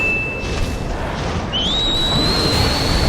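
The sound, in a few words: whistled command in video game Ninja Gaiden 2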